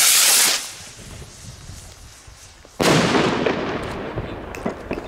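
Gaoo R15 firework rockets exploding outdoors, two loud sharp bangs about three seconds apart, each followed by a crackling, fading tail of bursts.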